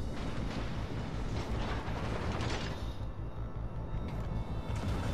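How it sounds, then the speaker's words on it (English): A French destroyer or cruiser in World of Warships: Legends takes incoming fire as an enemy warship unleashes a full cannon broadside, heard as a continuous, dense rumble of booming artillery that stays loud throughout. "He fired a full broadside at us"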